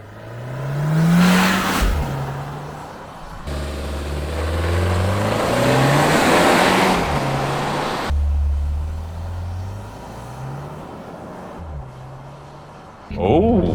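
A 2024 Hyundai Kona Limited pulls away hard from a launch, its engine climbing in pitch through the gears with shift breaks in between, loud and heard from inside the cabin, with a few voices talking over it.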